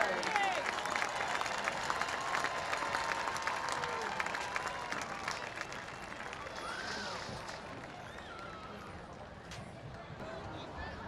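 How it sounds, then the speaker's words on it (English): Stadium crowd applause for the Beavercreek marching band and color guard at a high school football game at Fairmont, a dense, steady wash of clapping and cheering that eases slightly toward the end, with an announcer talking over it. "Another round of applause for the Week-Beavercreek Marching Band and Color Guard."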